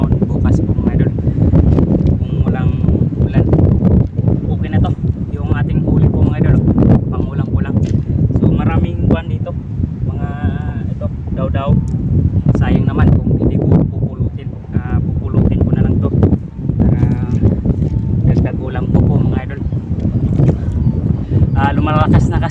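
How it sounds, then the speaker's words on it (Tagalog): Strong seaside wind buffeting the microphone in loud gusts, with someone talking over it nearly the whole time. "lumalakas na kasi yung hangin"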